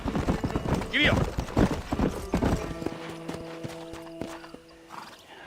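Horse hooves clip-clop steadily in Red Dead Redemption as a rider heads toward an old western fort, with a whinny and voices early on, then a sustained tonal drone under the continuing hoofbeats.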